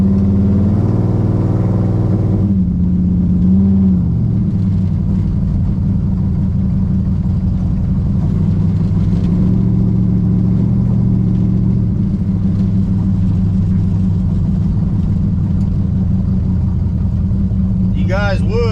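A 1968 Plymouth Road Runner on the road gives a loud, steady, low engine drone and rumble that holds throughout with only slight changes.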